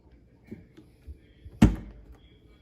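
A single sharp thud of a Morus Zero dryer door shutting, fairly close, preceded by a few faint light knocks in an otherwise quiet room.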